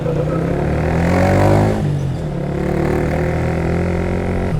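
A long jeepney passes along the road close by, its loud engine rumble swelling as it comes level and then easing into a steady drone as it moves off.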